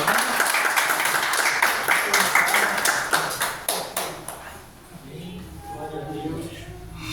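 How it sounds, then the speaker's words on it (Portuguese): A church congregation claps in unison with a rhythmic beat for about four seconds, then stops as voices and soft room sounds continue. "As palmas louvam o Senhor."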